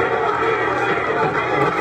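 A rap battle crowd for Loonie vs Tipsy D roars in a loud, dense, unbroken wall of shouting and noise that lasts the whole short moment.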